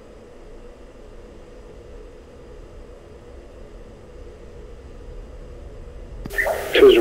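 Jet engines in a flight simulator game rumble steadily through the takeoff roll, a broad, even roar that slowly builds and then swells louder near the end with a sharper burst.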